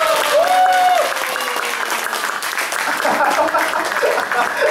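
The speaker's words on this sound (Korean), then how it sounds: "지금 박수가 너무 작은 것 같아요." Concert audience at a jazz trumpet solo show claps steadily and fairly loudly, with a voice speaking over the applause and a brief whistle-like tone near the start.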